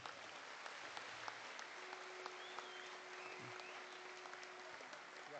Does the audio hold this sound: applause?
yes